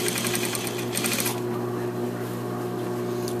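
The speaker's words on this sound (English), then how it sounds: "So I'm going to edge stitch here." A sewing machine edge stitching the lining along a jacket hem, whirring close and steadily. Its needle chatters rapidly in the first second, then settles into a smoother hum.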